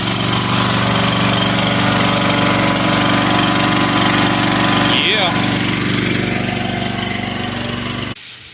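A gas pressure washer engine runs steadily and loud throughout, a constant droning hum with a brief rising whine midway, then cuts off near the end; talk can be heard over it.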